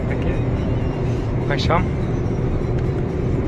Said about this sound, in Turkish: Vinç şu an üzerinde 45 metrelik vinç kullanıyorum.